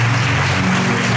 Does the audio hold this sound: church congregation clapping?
yes